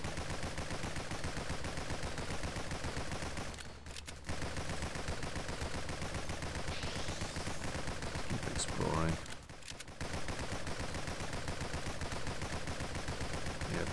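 Rapid, continuous gunfire from the video game Nimrods: GunCraft Survivors, dense automatic bursts with two brief gaps, loud and unbroken throughout.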